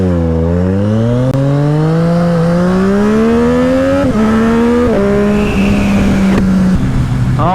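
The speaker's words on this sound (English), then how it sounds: "As you just saw me take off, one thing that I absolutely love about the triple engine is the sound." A 2021 Triumph triple-engine motorcycle accelerates away, its loud engine note climbing steadily in pitch through the gears with brief shift dips, close and continuous throughout.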